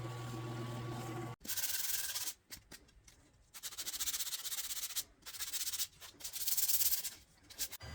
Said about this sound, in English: After a little sanding